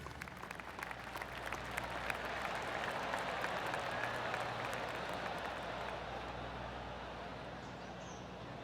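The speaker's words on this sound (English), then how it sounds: "Oh, golf clap." Soft, polite golf clap from a gallery crowd in the video game PGA Tour 2K25, a light patter of scattered hand claps rising gently and then fading, heard quietly over faint ambient background noise.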